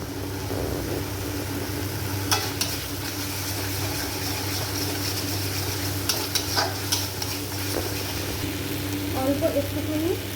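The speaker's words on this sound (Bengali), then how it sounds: "এবার ভালোভাবে এগুলোকে মিশিয়ে নিচ্ছি" Spices and green chilli paste being stirred together in hot oil in a pan, with a steady low sizzle, scattered scraping clinks of the spoon, and a brief voice near the end.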